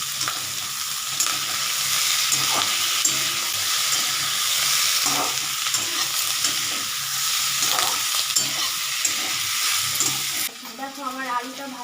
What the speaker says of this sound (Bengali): কাঁচা লঙ্কা আর এলাচটা এটাও আমি দিয়ে দিলাম এবার একটু আমি নাড়বো